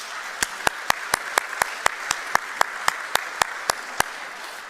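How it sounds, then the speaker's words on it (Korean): A Korean church congregation in Laguna Hills claps for the choir in a steady, even rhythm of sharp claps over a low crowd murmur, ending after about four seconds. "여러분 한번 다시 한번 크게 격려 박수 한번 해주십시오"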